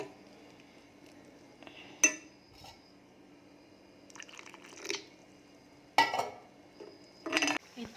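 Spatula scraping and metal clanks from cooking in an iron wok, with sharp clinks near the start and middle and a cluster of scrapes toward the end over a quiet, low kitchen hum.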